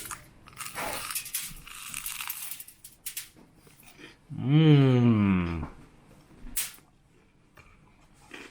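Crunchy bites into toasted Hawaiian bread spread with peanut butter and jelly, several sharp close crunches spread across the clip, with a drawn-out voiced sound in the middle and quiet gaps between bites.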